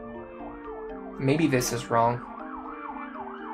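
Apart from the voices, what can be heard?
emergency vehicle sirens outside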